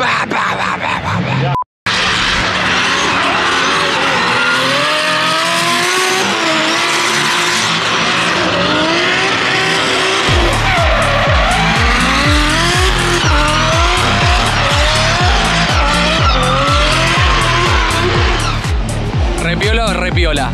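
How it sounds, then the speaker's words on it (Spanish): Six-cylinder turbocharged BMW drift car at a drift park, high-pitched engine howl with squealing tires and skidding, then rapid rhythmic exhaust pops and bangs from the rev limiter, loud and close, with people shouting over it. "hay como un 6 cilindros turbo al corte tirando explosiones por el escape"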